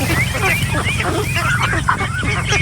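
Ducks on a farm quack and honk continuously near a deep, weedy water area, a close, busy chorus of overlapping calls with no pauses.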